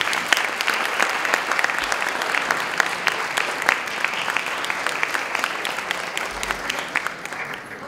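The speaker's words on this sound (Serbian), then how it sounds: "Pozdravimo i aplauzom." Sustained applause from a school-celebration audience, dense steady clapping filling the hall for several seconds, with faint voices underneath.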